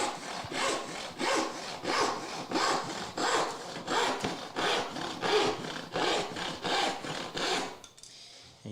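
A handsaw cutting wood in steady back-and-forth strokes, about a dozen loud, rhythmic rasping passes close by, stopping abruptly near the end.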